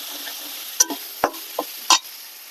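A few scattered scrapes and light clicks of stirring in a pan where ginger paste, cumin paste, chili powder, turmeric and garam masala are frying, quiet between the strokes.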